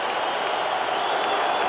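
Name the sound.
baseball crowd cheering at the World Series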